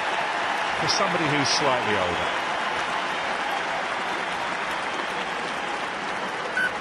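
A stadium crowd at a Munster v Ospreys rugby Champions Cup match applauds in a steady, broad wash that runs the whole time, with a commentator talking over it.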